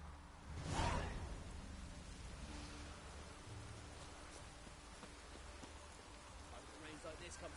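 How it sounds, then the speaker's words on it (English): Rain falling in The Witcher 3: Wild Hunt, a steady faint hiss of rainfall with a brief louder whoosh near the start, low and even throughout. "Rains like this come sowing time."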